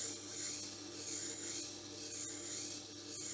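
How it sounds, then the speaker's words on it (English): A blade is drawn back and forth on a Tormek sharpening stone, giving a faint, continuous grinding rasp with a few soft clicks and no talking. "moving it back and forwards like this until you have a nice sharp blade."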